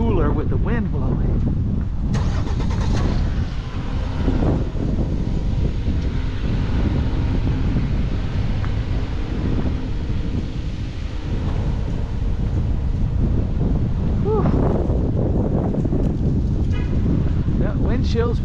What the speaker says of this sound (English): Windy when I'm walking towards the ocean,